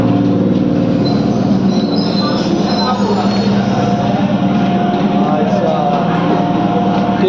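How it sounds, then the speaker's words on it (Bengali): A local train arriving and running near Thakurnagar, heard close and loud as a continuous rumble with squealing wheels and faint clatter throughout, with voices underneath. "ট্রেন চলে এসেছে, তো ট্রেনে উঠবো"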